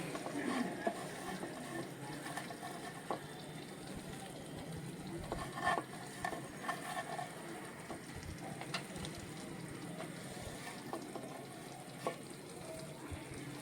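Pistachios being stirred into sheera in a pan, a low steady sizzle with occasional scraping and stirring taps, fairly faint and continuous, with no talking.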